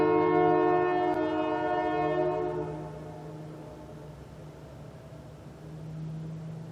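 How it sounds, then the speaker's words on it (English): A short 10-car train rumbles past with a long, steady horn blast that fades out, leaving a low continuous rumble. "I just wanted to get the oil change going and let this train pass."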